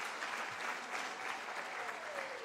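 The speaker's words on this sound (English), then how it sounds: "Can we give him a round of applause?" Steady, dense applause from a symposium audience, clapping continuously at an even level throughout without pause.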